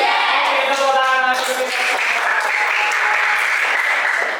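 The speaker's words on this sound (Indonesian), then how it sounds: "Oke, tepuk tangan." A class in an Indonesian teacher-training session breaks into applause, a bright, busy clatter of many hands held at a steady level, with voices mixed in at the start.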